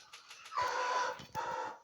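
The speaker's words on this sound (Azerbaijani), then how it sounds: "Xoruzların səsi gəlir." Roosters crowing near a rural home, two drawn-out crows in quick succession, moderately faint, with a few scattered clucks before them and no talk.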